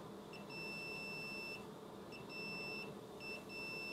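A multimeter's thin continuity-test beep sounds three times in short bursts, steady and high-pitched over a faint background hiss.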